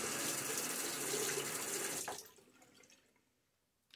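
Water runs hard from a bathroom tap as a razor is rinsed during a wet shave, a loud, close rush for about two seconds that then cuts off and fades into quiet dripping.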